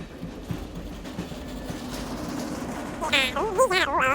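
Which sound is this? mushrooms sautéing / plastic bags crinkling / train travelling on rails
train travelling on rails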